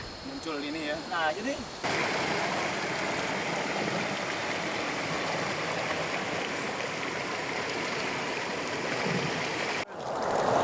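River water at Teluk Wang Sakti in Merangin rushes steadily in a broad, constant wash, loud and close throughout, with a brief voice at the start and a short break near the end.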